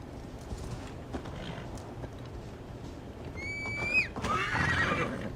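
A horse whinnies loudly in a video game, Assassin's Creed Valhalla, with a rising, wavering pitch, followed by snorting and rustling over a steady low background hum.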